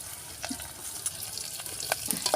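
Red chilies dropped into hot oil in a pot on a wood-fired stove give a soft, crackling sizzle with scattered pops, steady and close, with no talk.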